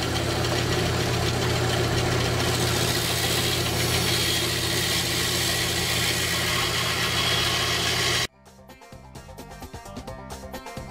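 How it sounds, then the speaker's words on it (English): A bandsaw runs loud and close, cutting a block of wood into the rough shape of a bufflehead decoy head, with a steady mechanical roar for about eight seconds before abruptly cutting off. "There's a lot of bandsaw work to create the basic shape of the head."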